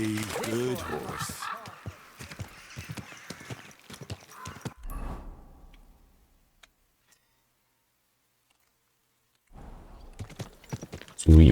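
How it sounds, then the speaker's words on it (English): Hooves clip-clop in a quick rhythm in Kingdom Come: Deliverance II under a voice, then fade to near silence before talk and hoofbeats return loudly at the end. "Easy, good horse."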